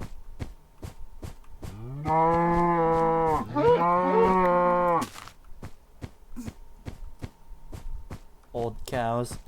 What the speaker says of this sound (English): Old cows.